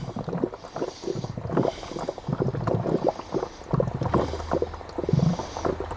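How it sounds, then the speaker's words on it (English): Irregular sloshing and gurgling of water from a koi pond filter draining, bubbling and splashing in uneven bursts with a windy, rushing texture, fairly close. "now that's draining all the water out, and you can hear it bubbling"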